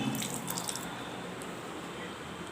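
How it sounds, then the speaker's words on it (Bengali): Hands washed under running tap water in a home kitchen, a steady close hiss of flowing water with light splashing and dripping near the start, moderately quiet and without speech. "দাঁড়াও হাতটা ধুয়ে নিই।"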